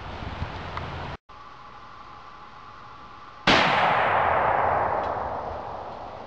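An M44 carbine firing a 7.62x54R round at a Strongwell ballistic plate, a single loud outdoor report with a long decaying echo after a short stretch of wind noise.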